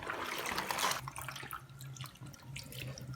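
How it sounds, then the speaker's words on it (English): Tap water runs and splashes into a sink while an old wig is rinsed out, gushing strongly at first, then easing to a softer flowing trickle. "So now I'm just going to be rinsing out my hair."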